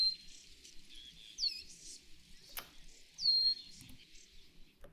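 Marsh birds give thin, high-pitched chirping calls, two clear bright notes a couple of seconds apart over faint background twitters and a soft click, fairly quiet and close.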